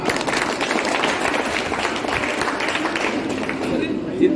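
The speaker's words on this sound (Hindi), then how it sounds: "एक बार तालियां बजा दो।" An audience at a crowded Indian gathering in Bihar bursts into sustained, dense applause, loud and continuous throughout with crowd murmur mixed in.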